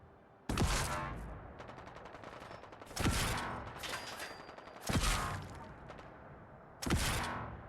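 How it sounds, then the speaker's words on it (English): Enemy gunfire in Fallout: London comes in four sharp bursts of rapid shots, each cracking loudly out of quieter gaps and trailing off, with no talk over it. "You're gonna shoot me from over here, guys."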